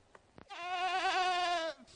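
Goats on a farm give one long, loud, wavering bleat close by after a couple of faint short sounds.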